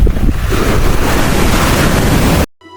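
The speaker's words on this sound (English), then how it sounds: "the waves crash violently against the shore" Waves crash and surge against the shore at Dhanushkodi, a loud continuous roar with wind buffeting the microphone, ending abruptly into near silence.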